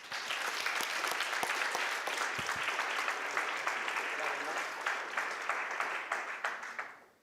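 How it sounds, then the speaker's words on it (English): Sustained audience applause at a conference event, a thick wash of many hands clapping at even loudness for several seconds before tapering off at the end. "Big applause."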